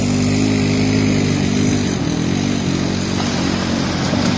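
A motorcycle engine runs steadily near a river crossing, a loud continuous rumble with a constant low drone and no pauses, heard alone without talk.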